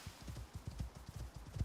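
Horse hooves clip-clop while riding in the video game Icarus, a steady, fairly fast run of low thudding hoof falls, quiet and continuous.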